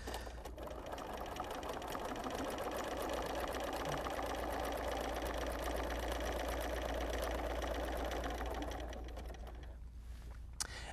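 A sewing machine stitches steadily during free-motion quilting, a rapid even mechanical chatter heard close for about nine seconds before it slows and stops.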